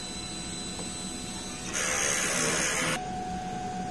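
DTF printer running a strong head cleaning cycle, giving a steady mechanical whir that jumps to a louder, broader pump-like whoosh for about a second before returning to the lower hum.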